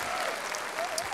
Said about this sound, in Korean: 우리 전철환 선생님에게 박수 한번 주시기 바랍니다.